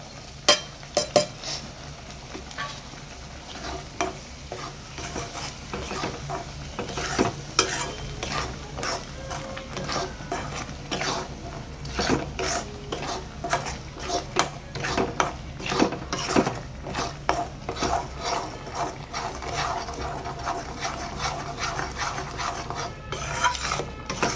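A spoon stirs and scrapes paneer mushroom masala with turmeric, red chilli powder, coriander powder and other spice masalas as they roast in a hot pan, constant sizzling beneath repeated scraping strokes, close and steady.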